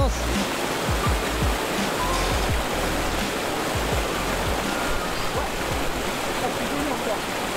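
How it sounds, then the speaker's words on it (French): A small alpine mountain stream rushes loudly and steadily close by, a dense broadband splashing roar with occasional low knocks and thumps scattered through it. "Un petit ruisseau alpin,"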